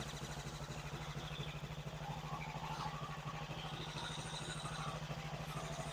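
An old motorcycle engine with no battery fitted and a little gum in the carbs idles steadily, a low even putter with a fast regular pulse throughout, fairly quiet and with no talk.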